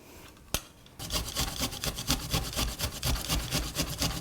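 Fresh ginger being finely grated into a pan for a creamy roast cashew and butternut squash soup, a quick steady rasping scrape repeating in a fast rhythm, close and fairly loud, after a single soft knock.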